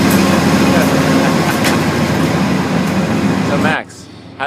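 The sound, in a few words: train ride, inside a moving train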